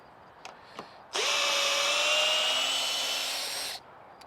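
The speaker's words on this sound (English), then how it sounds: "I'm just going to make a new hole here." Ridgid cordless drill with a 2 amp hour battery boring a new hole, two faint taps followed by a single loud, steady whine of the motor for about two and a half seconds that cuts off abruptly.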